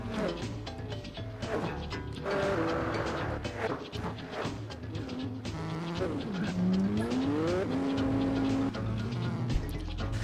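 Mazda RX-7 race car in Gran Turismo 4 popping and spitting through its exhaust, with a sustained engine whine and shifting tones over other race cars running loud and close throughout.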